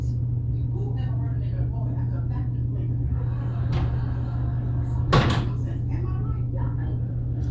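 A door in room 314 of the Bullock Hotel opens with a brief latch click and a sharper clunk, heard over a steady low electrical hum while people talk quietly nearby.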